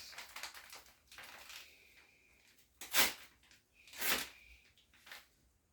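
Close paper crinkling and rustling as an envelope is handled and torn open, with a few louder crisp rips standing out from softer shuffling, no talking.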